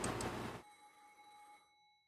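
A telephone rings once in the Umineko visual novel game: a loud electronic ring opens, then cuts off, leaving a clear tone that hangs and slowly fades into quiet.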